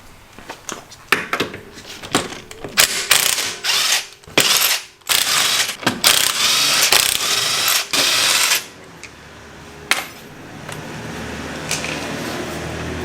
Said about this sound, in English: Maybe should we take this wheel off too?